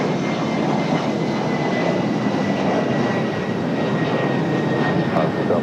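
An Embraer E175 jet departing toward JFK gives a steady, broad engine roar with a faint whine, continuous and fairly loud at a distance, no voices.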